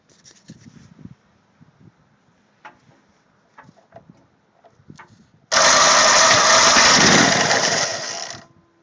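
A Briggs and Stratton 3 HP engine cranked by its electric starter motor bursts into a loud, steady roar after some quiet clicks and handling noises, running for about three seconds before cutting off.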